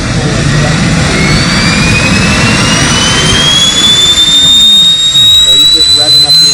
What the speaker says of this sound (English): So he's just revving up the engine